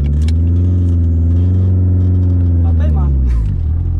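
A Lancia Delta Integrale HF Evo 1 with four-wheel drive revs loudly as it pulls away, a deep sustained engine drone that drops off near the end, with a person talking over it.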